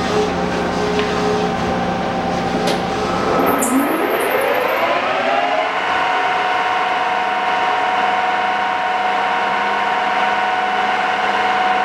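A Kearney & Trecker Model 315 S-15 vertical milling machine spinning up to its top spindle speed of 2,000 RPM, a steady mechanical whine rising in pitch over a few seconds, then holding an even, sustained hum.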